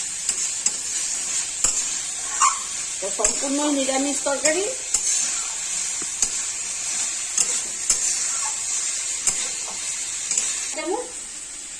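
Potatoes and soybean chunks sauté in a pan for a vegetarian curry, giving a steady soft sizzle with occasional stirring scrapes, while someone talks over it.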